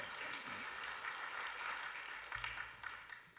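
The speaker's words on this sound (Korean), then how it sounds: "하나님께 큰 영광의 박수로 영광드리겠습니다" A church congregation at a Korean Sunday worship service applauds in a steady, even wash of clapping that sounds somewhat distant and thins out toward the end.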